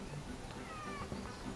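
A cat meows faintly once or twice, close by, under a steady hiss of background noise.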